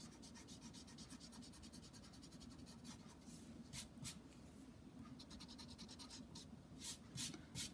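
An eraser rubs over pencil lines on drawing paper during a two-point perspective drawing, with steady quiet back-and-forth scrubbing and a few sharper strokes toward the end, close and alone.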